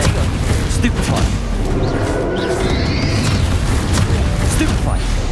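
Spell blasts in the Hogwarts Legacy game hit as loud, continuous booms and rumbling explosions, layered with combat effects and a voice shouting spell names over the din.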